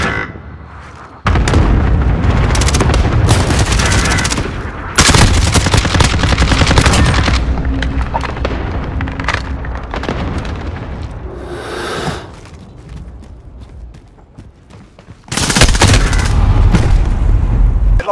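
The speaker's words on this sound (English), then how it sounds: "Allied cluster strike inbound." Cluster strike explosions in Modern Warfare erupt in loud, dense bursts of rumbling blasts and rattling gunfire, breaking off into quieter gaps before another heavy barrage hits.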